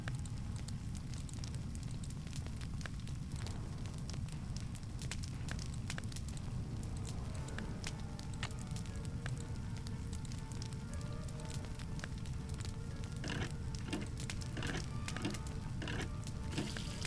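A fire burns steadily in a Nancy Drew adventure game, a dense wash of low roar with scattered sharp crackles and pops throughout, constant and fairly close, with no voices.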